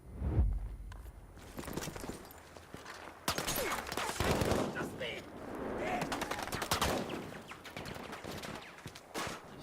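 Battlefield V combat bursts with dense rifle and machine-gun fire, sharp volleys crackling near and far in an unbroken stream, with voices heard among the shots.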